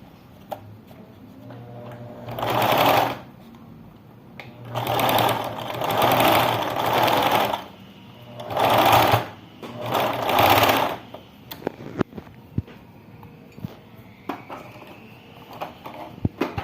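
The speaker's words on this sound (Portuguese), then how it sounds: "Em cima de onde a gente passou, eu vou passar a costurinha." Sewing machine stitching a baby slipper with a reverse stitch, running in five loud, close bursts of a few seconds each, separated by pauses with light handling clicks.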